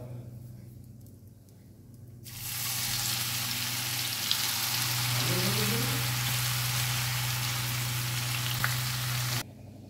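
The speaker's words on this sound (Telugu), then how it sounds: "ఇప్పుడు మనం ఈ వెల్లుల్లి ఇందులో వేసేసుకుందాము" Garlic is dropped into hot oil with turmeric in a home kitchen, and a loud, steady frying sizzle bursts in at once and holds, with a low hum underneath.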